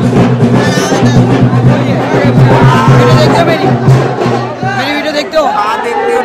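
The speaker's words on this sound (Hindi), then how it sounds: "ये देखिए भीड़ लग गई यहाँ पर" A dense crowd packed together at the Ajmer dargah during the urs gathers in a loud, steady babble of many voices, with a nearby person speaking over the hubbub.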